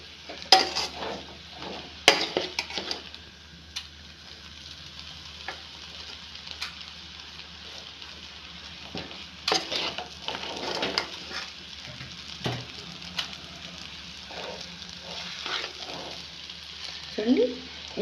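Hakka noodles stirred and tossed in a hot pan, with a steady sizzle under scraping, clinking utensil strokes that come in irregular bursts, close up, with no talk.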